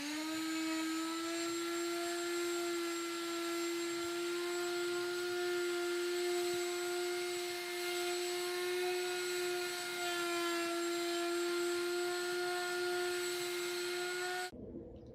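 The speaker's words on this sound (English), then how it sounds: "you do want to keep the sander in movement" An orbital sander working a wooden handrail gives a steady, loud, high motor whine with strong tonal hum, running unbroken before cutting off abruptly at the very end.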